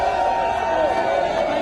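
Crowd at a political rally in Congo, a dense, steady roar of many voices cheering and chattering, close and loud throughout.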